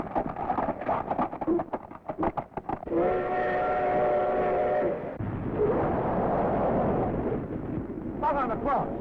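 A train in a 1934 adventure serial draws near, its steam whistle holding a steady harmonic blast over a rumbling, clattering background, with a short second toot near the end.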